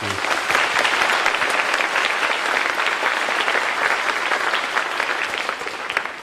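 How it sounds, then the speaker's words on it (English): A school audience at a Veterans Day program gives a round of applause, dense and steady clapping from a large crowd in a hall that fades slightly toward the end. "Round of applause for them as well"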